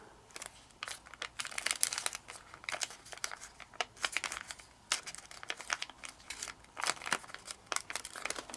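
Origami paper being folded for a jumping jack-o-lantern, with close, dry crinkling and crisp creasing in irregular bursts of rustle and tiny tearing-like snaps, no voices.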